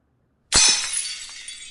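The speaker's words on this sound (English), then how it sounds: "She could smash her water glass against the wall, and we play a sharp glass shatter sound." A sharp glass shatter sound effect, a drinking glass smashed against a wall: silence, then one sudden loud crash followed by a bright, tinkling spray of shards that slowly fades.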